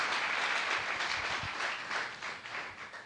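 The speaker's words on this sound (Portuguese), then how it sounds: "pode aplaudir" A church congregation applauds in a sustained burst of many hands clapping, fairly distant and moderately quiet, swelling and fading slightly with no talking over it.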